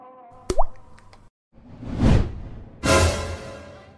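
Water leaks through the ceiling of a top-floor apartment. A single sharp plop of a drip is followed by two louder, splashing washes of falling water, close by with no voices.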